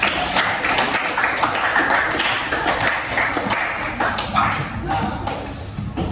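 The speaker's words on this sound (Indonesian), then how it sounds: "tepuk tangan untuk kalian semua" A school class applauds together, a steady, fairly loud patter of many hands clapping that keeps going without a break for several seconds.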